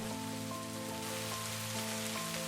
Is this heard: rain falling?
yes